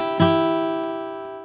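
Flatpicked acoustic guitar plays a short measure alone: one bright strum rings out with sustained harmonics, followed by softer picked notes and a quick hammer-on, clean and close.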